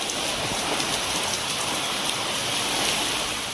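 Heavy rain pouring steadily in strong wind across districts in Tamil Nadu, a dense, continuous wash of drops hitting surfaces at constant loudness with no pauses.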